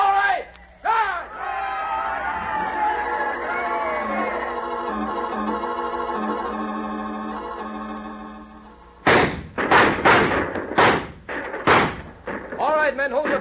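Radio drama crowd of soldiers letting out a loud battle cry as they charge, followed by a volley of gunfire and bangs, with a tonal musical passage underneath before the shouting and shots.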